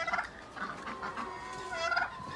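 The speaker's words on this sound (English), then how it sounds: "I'm going to go feed the ducks and the turkeys." A turkey on a small farm gobbles nearby in two or three short, warbling bursts over faint background noise.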